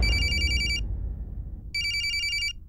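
A telephone ringtone signalling an incoming video call rings in two bursts of rapid, bright electronic trills with a gap between them, heard close and clear over a low background rumble.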